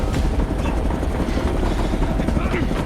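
In a war film, a military helicopter thrums in a continuous, loud rotor drone that fills the clip, with faint voices mixed in beneath it.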